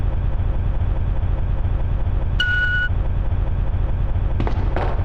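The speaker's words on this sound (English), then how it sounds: "That was the same noise that they play in No More Heroes when Travis's answering machine leaves a beep" Beep sound effect in the Resident Evil 2 video game: a single short electronic tone rings out clearly over a steady low background hum, followed by a couple of brief clicks near the end.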